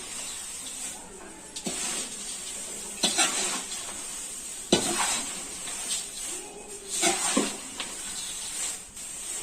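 Thin poha chivda, a crispy flattened-rice snack, is stirred while frying in a pan over a medium flame: repeated scraping, clattering strokes over a low sizzling bed, several spaced sweeps.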